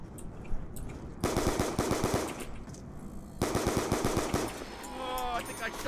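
Automatic gunfire in Black Ops 2 Zombies, two long rapid bursts of dense repeated shots separated by a short pause, loud and up close, followed by a fainter chiming game tone.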